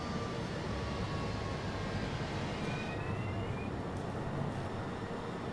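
Steady broadband roar of a big airliner in the Airport CEO management game, a constant drone with no breaks across the whole stretch and no talking over it.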